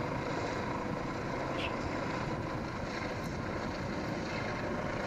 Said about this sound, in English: see the helicopter there? He's coming in. Gonna be landing here in just a minute.